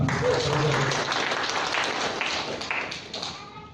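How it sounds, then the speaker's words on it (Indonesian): An audience claps together at a community business gathering in Surabaya, a dense burst of applause that starts loud and tapers off over several seconds, with a few sharper individual claps standing out near the end. "Tepuk tangan untuk kita semua."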